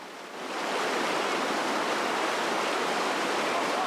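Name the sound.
swift-flowing Mopan river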